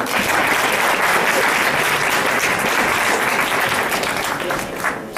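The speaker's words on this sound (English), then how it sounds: "Can we get another round of applause?" A room full of listeners at a student instrumental music recital claps in a dense, steady round of applause that carries on evenly before easing slightly at the close.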